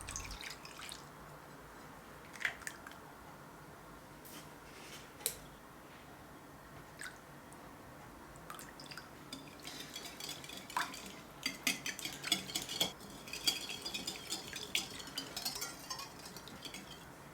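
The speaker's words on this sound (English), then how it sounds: "First I'm going to add all the wet ingredients into my mixing bowl and give it a whisk." Egg and grape vinegar whisked in a mixing bowl, a faint, close run of light clinks, taps and wet stirring that grows busier and more rhythmic in the second half, with no talking.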